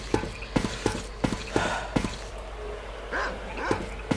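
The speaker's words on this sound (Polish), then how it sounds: "Tu są psy." Dogs in the video game S.T.A.L.K.E.R. Call of Pripyat give a run of sharp, evenly spaced barks, then a few softer yips and whines, close and fairly loud.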